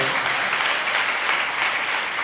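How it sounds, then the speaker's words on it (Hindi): Applause from a church congregation honoring the pastor after a Hindi sermon, steady dense clapping throughout, loud and close with no voices over it. "पास्टर साहब के लिए ताली बजाइए।"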